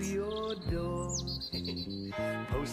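Birds chirp and tweet in a lively morning chorus over a bright musical backing, with repeated short calls.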